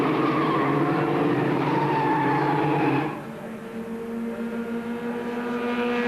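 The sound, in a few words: Formula Ford race cars racing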